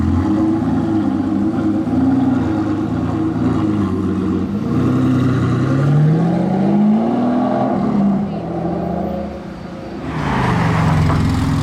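A V12 sports car engine revs on a Monaco street during Grand Prix week, with rising and falling pitch sweeps, loud and close, a brief dip before a sharp final burst.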